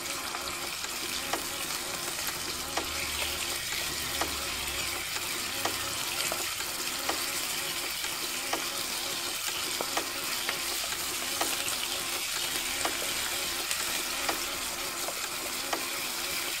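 Pork stir-frying in a pan, a steady bright sizzle with regular scraping and clinking of a utensil against the pan throughout, no talking.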